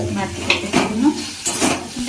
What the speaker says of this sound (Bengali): এবারে রসুনটা দিয়ে দিচ্ছি ভাজা হয়ে গেছে লাল লাল হয়ে গেছে